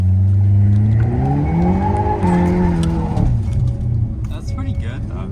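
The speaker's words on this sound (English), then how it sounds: "She's gonna show us how to properly launch a Hyundai. N." A Hyundai Elantra N launches with a loud, close engine note that climbs through the revs, and tire noise builds as it pulls away. People talk and shout over it.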